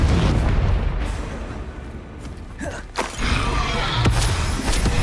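A Confringo blasting spell in Hogwarts Legacy sets off loud, rumbling, crackling explosions under a dense roar of combat, with sharp impacts around the middle and toward the end.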